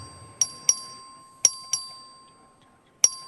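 Legislative chamber voting bell rung by the clerk, six clear metallic dings in pairs, each ringing out and decaying over a quiet room.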